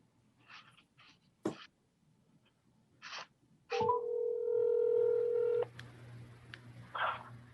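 Telephone keypad tones beep in a quick series of short dialing presses, followed by a steady tone as a call is placed during a city council meeting.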